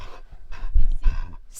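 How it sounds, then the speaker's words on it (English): A pet dog named Pacey pants in quick breathy bursts at close range inside a camper van, with a brief higher rasp near the end. "scary doggy"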